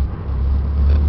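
Ford Bronco II with a V6, five-speed manual and four-wheel drive, in good condition, driving along with a steady, loud low engine and road rumble, no talking.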